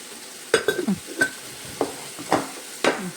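Onions with salt are stirred in a pan, with several distinct close scrapes and clinks of a spoon against the pan over a faint sizzle, spaced irregularly.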